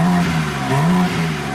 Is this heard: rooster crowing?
no